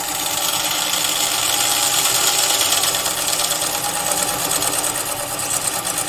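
Skew chisel cutting a flat base into a mallee burr spinning on a wood lathe, giving a steady, loud, continuous whirring scrape with a constant motor drone underneath, no pauses.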